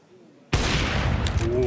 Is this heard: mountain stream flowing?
no